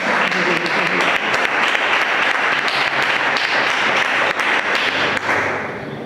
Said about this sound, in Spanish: Un aplauso para Cristo ahí.